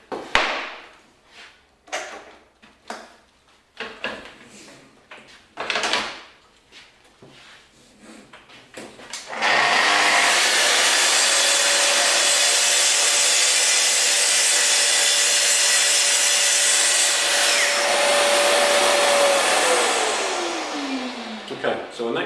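A Festool TS55 REBQ plunge saw runs along a guide rail and cuts through wood with a loud, steady roar for about ten seconds. Scattered clicks and handling come before it, and the motor winds down at the end.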